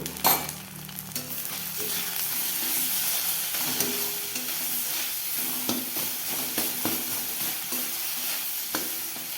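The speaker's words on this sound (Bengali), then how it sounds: "দেখো বন্ধুরা, মশলা ভাজা হয়ে গেছে, মশলার থেকে তেল ছেড়ে দিয়েছে" Spice paste with salt, turmeric and Kashmiri red chilli powder frying in oil in a pan, a steady close sizzle broken by irregular scraping stir clicks, with no voices over it.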